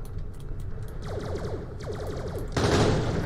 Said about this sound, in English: this is an interesting shotgun